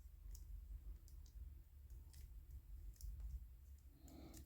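A Riobot Jehuty action figure's leg joint gives a series of faint, crisp plastic clicks spaced roughly a second apart, close and quiet over low background hum, with a slightly longer rattle at the end.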